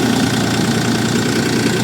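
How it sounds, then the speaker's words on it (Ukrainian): A new DTZ 354U diesel tractor engine idles steadily nearby at 1,100 rpm during break-in, a continuous low, even chugging hum with no speech. "Чуєте, як працює двигун?"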